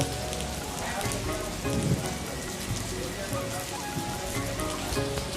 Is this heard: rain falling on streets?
yes